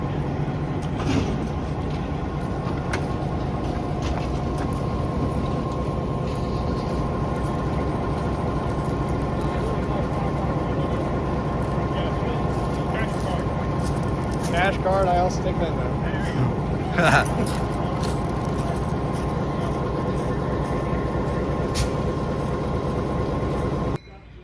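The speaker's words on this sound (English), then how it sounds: "let's listen to our train keep going" A diesel-hauled excursion train rumbles steadily along, its engine droning for the whole stretch while people talk nearby.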